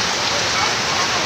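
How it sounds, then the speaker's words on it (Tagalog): Heavy rain pours down outdoors during a sudden downpour in the Philippines, a dense, loud and continuous hiss of drops striking surfaces with no break. "Lakas ang ulan, biglang umulan."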